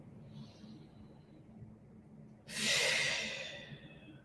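Quiet room tone and faint breathing give way to one long, strong exhale near the microphone during a core workout; the breath swells, then fades over about two seconds.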